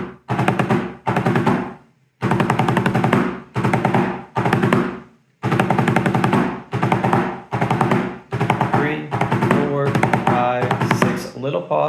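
Snare drum playing line A of the British Reveille twice as a historic drumming exercise, with tight bursts of rapid rolls and strokes separated by short pauses, loud and close, with no voices.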